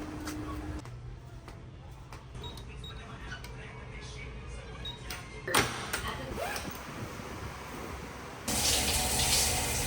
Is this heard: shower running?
yes